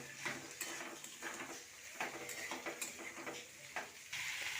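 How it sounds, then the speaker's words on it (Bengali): Chopped potato and eggplant frying with onion in fish oil, a steady crackling sizzle broken by rhythmic scrapes and clinks as the pan is stirred up close. "দেখুন পেঁয়াজটা আর মাছের তেলটা ভালো করে ভাজা হয়ে গেছে। এবার কেটে ধুয়ে রাখা আলু বেগুনটা দিয়ে দেবো।"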